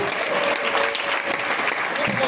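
Loud, continuous applause from an audience at a trade union training session, steady clapping filling the room without a break.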